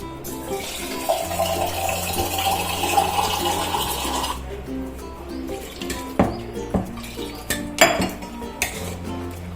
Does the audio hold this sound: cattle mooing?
no